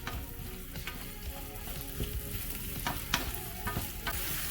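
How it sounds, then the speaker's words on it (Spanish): Onions, garlic and green chile frying in a pan give a steady, moderately quiet sizzle with scattered spatula scrapes and taps, and no voices. "Vamos a agregar lo que son nuestras cebollas, el ajo y el chile verde. Y vamos a freír esto por unos 2 o 3 minutos."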